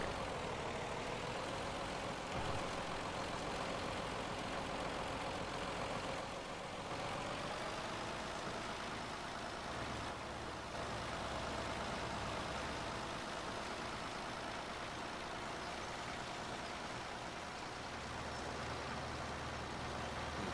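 A tractor pulling a brush hog in Farming Simulator 17 drones with a steady, loud engine hum at near-constant pitch. A brief dip in pitch comes partway through, and there is no talk.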